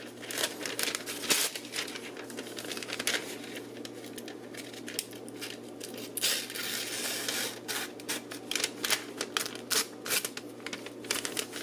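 A kitchen knife just sharpened on a Work Sharp E5 electric sharpener slices through paper, giving close, dry rustling and scratchy slicing strokes in irregular bursts, with crinkling between cuts over a faint low hum.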